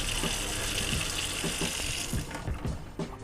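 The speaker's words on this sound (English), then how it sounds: "So continue with your spigots. Make sure you're getting the air out of your hot water line." Water gushing steadily from an RV spigot on a Wildwood FSX 170SS as air is purged from the hot water line, with sputtering bursts near the end as trapped air spits out.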